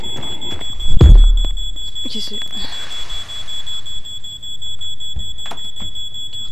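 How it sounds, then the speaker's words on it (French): In the horror video game Paranormal, a fire alarm sounds a steady, high, piercing electronic tone that runs throughout, with a thump and a voice speaking over it. "mon alarme incendie qui sonne"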